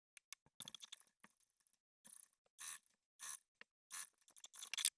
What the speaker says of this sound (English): we are going to head over to the sewing machine and we are going to stitch along this edge at a 3/8 of an inch seam allowance